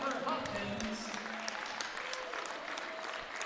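Crowd at a Roseburg vs South Medford high school boys basketball game gives a warm round of applause for departing seniors, steady clapping across the gym with a commentator talking over it.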